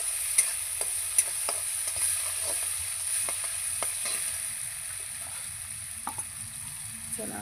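Green chilli chutney sizzles steadily in a pan for rajgira bhaji, with a constant frying hiss and occasional soft clicks of a spoon stirring, close and alone.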